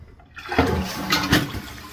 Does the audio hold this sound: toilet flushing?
yes